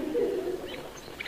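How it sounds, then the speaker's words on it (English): Birds calling outside a window on a 1950s comedy broadcast, a soft cooing, dove-like phrase in the first half second followed by faint higher chirps, fairly quiet with no talk over it. "listen, there's those lovely birds again"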